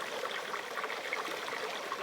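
Water runs steadily from a hose into a concreted catchment at a remote Kimberley spot, a continuous close trickling and splashing wash with no voices.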